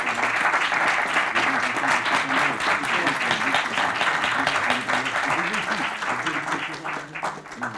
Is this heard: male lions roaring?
no